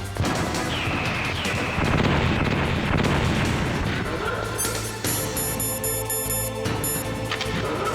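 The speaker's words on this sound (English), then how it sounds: "Let's throw another stun grenade." A stun grenade exploding in the Metal Gear Solid video game: booming, gunfire-like bursts are followed by sharp electronic tones and ringing, all fairly loud and close.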